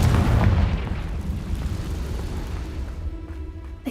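A Confringo fire spell explodes in the video game Hogwarts Legacy, a loud, deep blast that rolls into a long, fading rumble over a few seconds.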